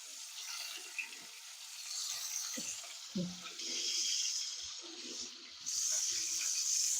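Food, with cumin paste, fries lightly in a pan, giving a steady close hiss with bright surges and a few soft clatters, no voices.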